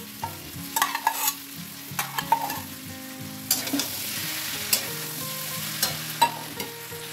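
Chili chicken stir-fries in a pan with chili sauce and soy sauce, giving a steady sizzle broken by repeated scraping clacks of the spatula as it is tossed. No one speaks.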